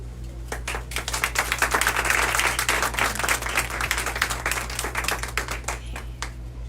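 An audience applauds steadily to welcome a speaker onto the stage, sustained clapping from a moderately sized crowd with a low steady hum beneath it.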